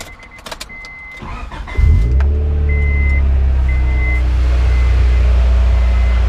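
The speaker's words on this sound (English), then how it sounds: "start up one more time now that's put together, just to be sure." A Honda Prelude, freshly fitted with a replacement crank position sensor, cranks briefly and catches. It settles into a loud, steady idle up close, preceded by a few soft electronic chimes.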